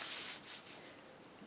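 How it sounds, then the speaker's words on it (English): Tarot cards are laid out on a table, giving soft, close papery swishes and rubbing strokes that fade into lighter brushing, with no voices. "Let's just lay the cards out"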